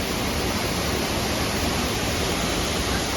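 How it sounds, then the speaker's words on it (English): Steady broadband rushing of a small local waterfall beside a hiking trail, a constant near wash of falling water with no voices over it. "It's a local waterfall on a trail that we were hiking on"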